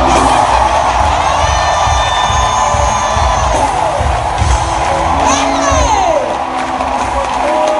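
A church congregation cheers and shouts loudly and continuously, a dense roar of many voices with whoops and cries rising over one another throughout.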